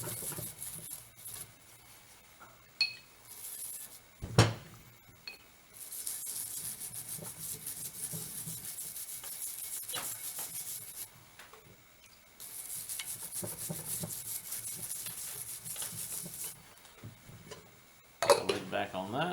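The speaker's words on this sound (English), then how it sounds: "So I'll use some contact cleaner, start scrubbing, get the chemical all over it" Scrubbing break-action shotgun parts with contact cleaner: long stretches of close, brushy hiss and rubbing broken by a few short clicks and knocks, with someone talking at times over the work.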